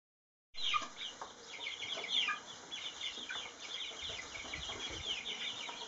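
Young chicks peep near an outstretched hand, with high, thin chirps repeating steadily after a sudden start, over a soft outdoor background.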